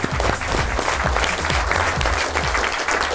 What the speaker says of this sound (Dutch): applaus voor Thea Koster